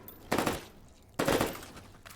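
Two separate bursts of AUG assault rifle fire in a video game, each a short crackling volley about a second apart, moderately loud over a quiet background.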